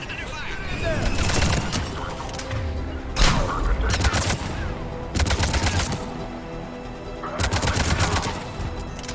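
Cerberus troops trading gunfire at a checkpoint in Mass Effect 3, dense bursts of automatic fire in repeated volleys with short gaps, loud and close, mixed with battle noise and urgent voices talking.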